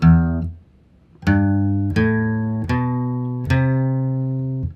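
Four separate guitar notes are plucked one at a time with pauses between, each ringing clearly and fading, played alone up close.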